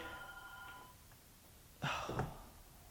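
A faint telephone ring with bell-like tones sounds briefly, followed by a louder short burst of sound, heard quietly in an otherwise calm room.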